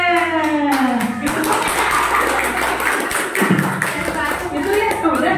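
An audience at a teacher training session claps in a short burst of hand claps mixed with taps and thuds, with a voice speaking over part of it.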